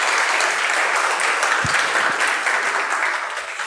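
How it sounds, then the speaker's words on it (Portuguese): A church congregation breaks into loud, dense applause, a steady close wash of many hands clapping that eases off slightly at the end. "Vamos dar uma salva de palmas para ele."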